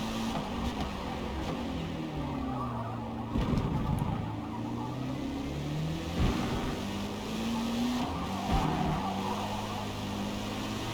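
A race car in Forza Motorsport accelerates hard, its engine note rising through the revs, dropping at gear changes and climbing again, loud and close with steady road and tyre noise.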